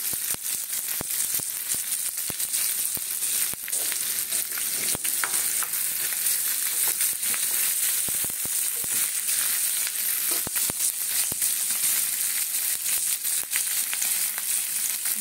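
Soybean chunks, lightly salted, fry in a pan for a chili soybean curry, giving a steady, close, continuous sizzle broken by frequent sharp ticks and scrapes of stirring, with no talk throughout.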